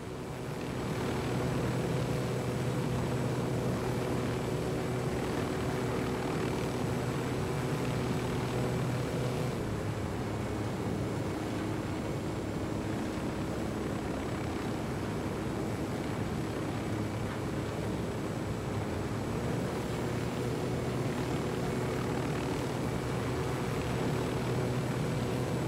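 Helicopter engine and rotor drone from the video game Ghost Recon Wildlands, a steady, loud, continuous mechanical hum that holds evenly throughout with no talk over it.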